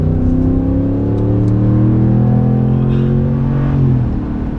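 A 2017 Ram 1500 Sport Night Edition 4x2 with the 5.7L HEMI V8 accelerates hard to pass a car, a loud, close engine drone whose pitch climbs steadily before easing off near the end.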